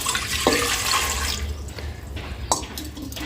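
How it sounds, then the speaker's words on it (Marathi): Water poured into a large aluminium pot in a home kitchen, a steady broadband rush lasting a couple of seconds, close and fairly loud, with a sharp clink of metal partway through and the flow trailing off. "मोठं ॲल्युमिनियमचं एक पातेलं ठेवलं आहे आता यामध्ये ना पाणी टाकते"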